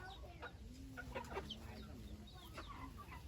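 Chickens cluck and squawk on a rural Thai farm where chickens and pigs are kept, several birds heard fairly close with short repeated calls over quiet outdoor ambience.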